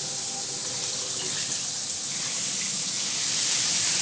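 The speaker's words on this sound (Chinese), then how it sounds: "我洗手。" Hands being washed under a running kitchen tap during cooking: a steady, close, continuous splash and hiss of water that swells slightly toward the end, with no talking.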